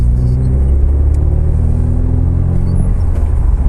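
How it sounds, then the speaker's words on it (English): A car's exhaust on its first drive after an engine rebuild, a loud, deep, steady rumble droning close by with slight throttle swells and no speech. "The exhaust is sounding good."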